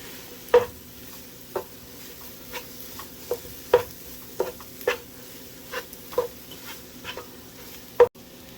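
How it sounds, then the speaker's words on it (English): A spoon stirs a 6-ounce can of tomato paste into a pot of vegetable barley soup, knocking the pot about once a second in sharp, fairly loud clunks over a soft simmering hiss, with no talking. "Now I'm adding just this little 6-ounce can of tomato paste, and I'm going to mix this in here pretty good."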